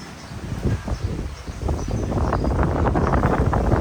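Dry wind blows outdoors, a rough rushing noise with buffeting that grows louder and steadier through the second half.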